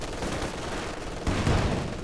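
A heavy machine gun fires in a real-time strategy video game, delivering dense rapid bursts of gunfire with a louder burst partway through, mixed with other battle noise and no talking.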